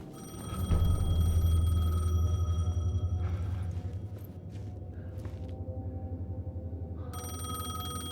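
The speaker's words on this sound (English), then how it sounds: "The payphone was ringing." A payphone rings in the Alan Wake video game, a bright repeating electronic ring over a low hum; it stops partway through, then resumes near the end.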